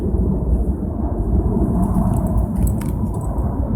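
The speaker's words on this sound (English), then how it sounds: "they're hearing the planes in the background" Airplanes fly near McCarran Airport at an outdoor park at sunset, giving a steady low roar and rumble that fills the background without a break.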